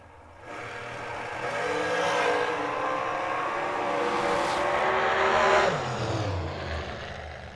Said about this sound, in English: Heads up drag race with Joe Peters.